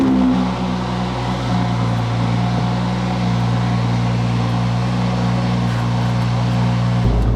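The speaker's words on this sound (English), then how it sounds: "Indy, we are out in the 500 brake Toyota Supra." A 500 bhp widebody Toyota Supra, Liberty Walk edition, drones steadily from inside the cabin while cruising, a low engine hum and road rumble holding constant with a brief deeper swell at the end.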